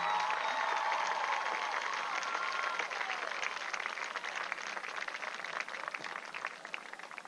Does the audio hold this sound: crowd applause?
yes